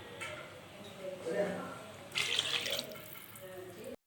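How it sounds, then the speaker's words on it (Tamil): Tap water poured into a cooking pot while making a Tamil-style brinjal kara kulambu, a splashing burst midway rising over a running faucet-like flow, with someone talking throughout. "அது தேவையான தண்ணி ஊற்றிக்கணும்"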